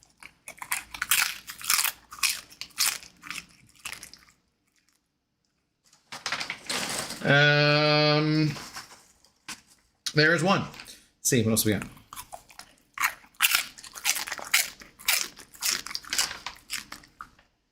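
A dog crunches a hard treat near the microphone, several bursts of crisp biting and chewing spread between stretches of a person talking.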